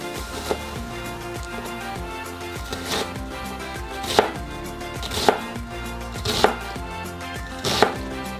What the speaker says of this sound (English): Now if we really wanted to get super fine, we could get in here and give it an additional chop.